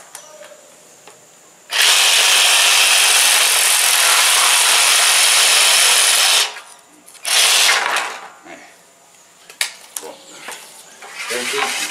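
Reciprocating saw cutting through chayote plant wood, a loud continuous buzzing cut of about five seconds, then a shorter second burst, followed by scattered handling clatter.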